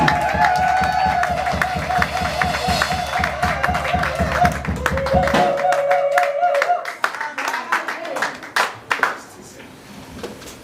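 Church congregation clapping and cheering in acclamation of the Lord, rhythmic hand claps over music and voices that fade out into scattered claps and murmuring.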